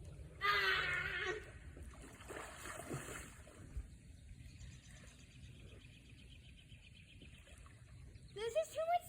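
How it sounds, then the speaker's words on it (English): Birds chirp in short bright bursts near a river during a kayak outing, over faint water sounds, with quieter stretches between the calls. "You hear the birds?"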